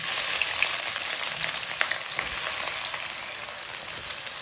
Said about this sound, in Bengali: পেঁয়াজগুলো একটু লালচে লালচে হবে তার জন্য আমি এটাকে ভাজতে থাকবো